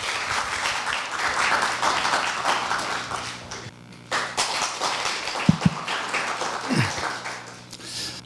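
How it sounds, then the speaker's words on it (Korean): An audience at a university speech contest event claps to welcome a government culture official to the podium, applause steady at first, then breaking off, followed by a few isolated thumps and faint shuffling. "박수로 맞아주시기 바랍니다"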